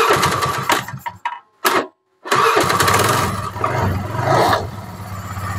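A carburetted Honda Vario 110 scooter cranks on its electric starter and catches, a loud close engine burst that falters into a brief silence, then restarts and settles into a steady idle.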